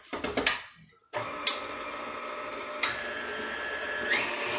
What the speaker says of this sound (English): And you're going to whisk this until it gets to stiff peaks.